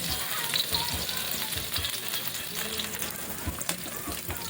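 Garlic and then onion sizzling and crackling in a pan of hot oil for adobo, a steady close frying hiss with light stirring scrapes, and a voice talking quietly over it.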